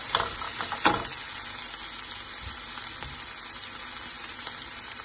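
Tomatoes and chillies fry in hot oil for a Goan prawn chilly fry, giving a loud, continuous close sizzle and hiss with a few brief stirring scrapes near the start.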